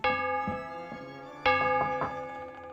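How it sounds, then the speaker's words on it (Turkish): A series of bright, sustained bell-like chimes from a doorbell in the game Dentures and Demons, with long ringing tails, struck several times in a steady sequence, clear and fairly close, with no talking. "Zil sesi bütün sesleri bastırıyor."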